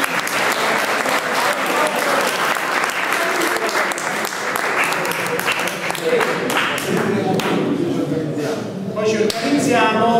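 Sustained audience applause at a Linux Day event in Fabriano, steady, dense clapping filling the room with a few voices rising near the end.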